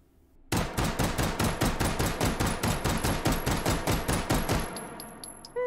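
Beretta M93R 9x19 pistol with compensator in the VR shooter H3VR, fired in a rapid steady string of about twenty sharp close shots, evenly paced, ending with a brief quiet tail and clatter.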